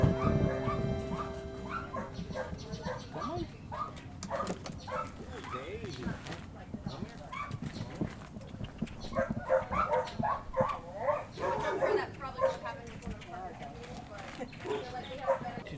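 Dogs at an animal shelter barking and whimpering, with yips and whines scattered across a busy stretch while people talk over them nearby.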